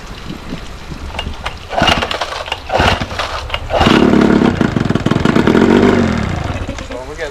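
A cheap old Johnson outboard motor revs up with throttle, its engine note rising and falling in loud bursts before a sustained higher-pitched run.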